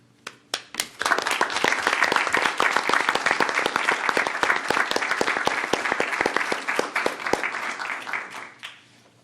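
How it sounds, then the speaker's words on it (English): An audience at a board of trustees meeting breaks into applause, a few scattered claps quickly swelling into steady, dense clapping from a room of people that tapers off at the end. "I applaud you guys."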